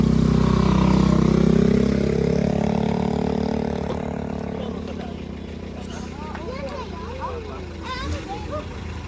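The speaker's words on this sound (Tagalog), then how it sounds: "May motor." A motorcycle engine drones loudly nearby, then fades as it passes on a rural provincial road, while several people talk over and after it.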